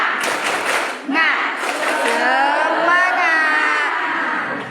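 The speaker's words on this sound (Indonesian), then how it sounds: "Kita coba tepuk semangat dulu ya, biar semangat lagi Bapak Ibu ya." An indoor audience performs a rhythmic 'tepuk semangat' chant, with sharp bursts of group clapping followed by many voices chanting together loudly and in unison.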